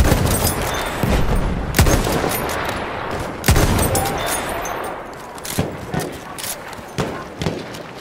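Machine gun fire in an intense combat video game battle: loud volleys and sharp single cracks, some near and some distant, with booming impacts and shouting soldiers in the background.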